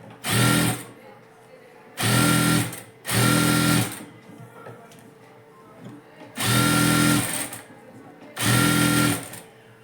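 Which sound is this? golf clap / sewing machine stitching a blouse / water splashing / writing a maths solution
sewing machine stitching a blouse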